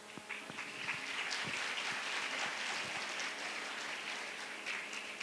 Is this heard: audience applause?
yes